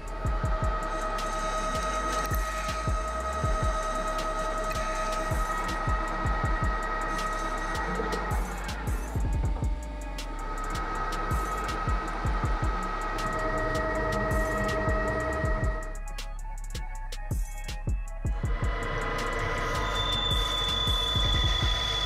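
A metal lathe machining a cooling fan part gives a continuous mechanical whir with steady tonal hum and irregular ticking cutting chatter, pausing near the end before the motor resumes.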